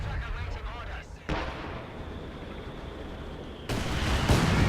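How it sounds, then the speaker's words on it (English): Artillery fire in Company of Heroes 2, heavy booming blasts and rumbling explosions that surge in bursts, with loud dense noise at the start and end and a person talking throughout. "So I saw they have their own artillery."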